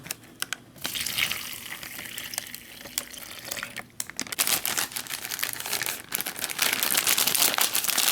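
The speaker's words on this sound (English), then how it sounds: "Add 6 ounces of water." Six ounces of water pours into a plastic MRE bag close up, a rising liquid rush over crinkling plastic that grows louder toward the end.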